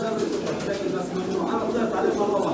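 Rooftop pigeons kept for breeding and flying coo softly in a low, repeated murmur, while someone talks nearby over the birds.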